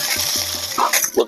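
Water gushing from a pipe into the basin around a coconut tree, a steady close splashing flow with a voice speaking briefly over it.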